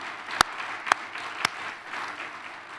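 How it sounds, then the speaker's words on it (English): A room full of guests at a high school football award ring ceremony applauds, a soft, continuous patter of clapping with three sharp, louder claps standing out close by near the start. "let's give them a huge round of applause"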